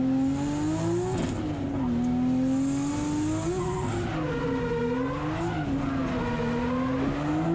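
A drifting car on a long handbrake slide, tires squealing in a loud, sustained wail that rises and falls as the car swings back and forth, with the engine droning underneath.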